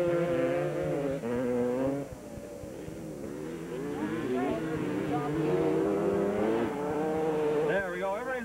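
Speedway racing motorcycles at Montgomery Speedway in 1992 fire up and rev hard together, a loud, continuous, overlapping engine roar that rises and falls in pitch throughout.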